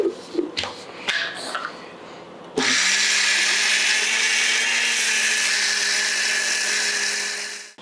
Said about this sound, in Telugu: ఇప్పుడు మన దగ్గర ఉన్న పప్పులో సగం వచ్చేసేసి మెత్తగా రుబ్బుకోవాలి